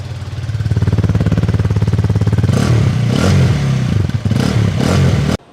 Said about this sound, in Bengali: এবার চেষ্টা করবো আপনাদেরকে বাইকের সাউন্ডটা শোনানোর জন্য।